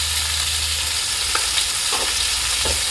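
Tomatoes and onions fry in a pan as a curry base for a fish stew with drumsticks and potatoes, giving a steady sizzle with a few soft stirring scrapes near the end.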